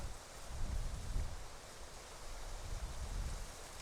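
Wind blowing outdoors, a steady broad rushing and buffeting roar with gusty swells, loud and close to the microphone, with no voices.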